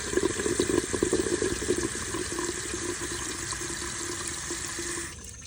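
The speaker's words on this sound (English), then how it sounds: "We're going to allow less water into the tank" Water rushes steadily into a toilet tank as it refills through a newly adjusted fill valve. A strong, continuous hiss and trickle, louder at first, cuts off abruptly just before the end.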